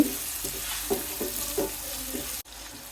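Whole spices (cardamom, cinnamon, bay leaf) and salt fry in oil while being stirred: close, steady sizzle with several soft rhythmic scrapes of a spatula, ending abruptly.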